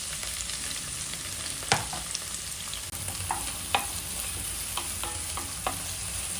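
Spring onions sautéing in olive oil in a home kitchen, a steady soft sizzle running throughout with occasional sharper clicks and scrapes of stirring, close and moderately loud, no voices.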